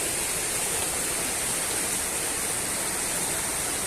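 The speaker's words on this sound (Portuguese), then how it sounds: "Vamos ver lá a caída d'água lá de cima." Waterfall seen from a hilltop trail, a Brazilian cascade like Véu das Noivas, pours as a steady, loud, unbroken broadband roar with no pauses and no voices.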